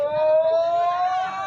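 A person's voice lets out a long, steady, siren-like wail imitating a Sasquatch call, held loud for the whole stretch.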